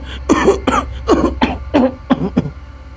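Several people cough repeatedly in a rapid series of harsh, close bursts, some sounding like throat clearing, in a kitchen filled with a foul stench.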